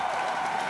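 Volleyball match crowd backing Asia, the Asuncion siblings' side, cheering and applauding in a steady broadband roar, loud and continuous through the short moment.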